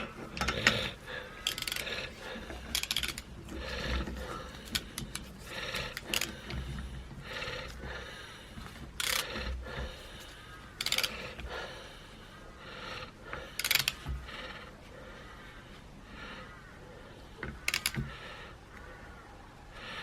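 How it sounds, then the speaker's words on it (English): Stud extractor cranks on a stud in a Mini A-series cylinder head, giving irregular metallic clicks, ratcheting and scraping taps close by, with short sharp knocks scattered throughout. "Fit the stud extractor, and let's see what happens."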